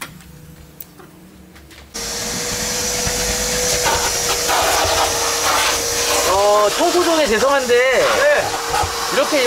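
A vacuum cleaner sucking dust from a car floor starts up abruptly after a quiet moment and runs loud and steady, its pitch wavering as the nozzle rubs across the floor.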